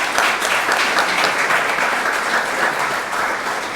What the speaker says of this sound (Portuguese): Eu queria uma salva de palmas para esses irmãos e irmãs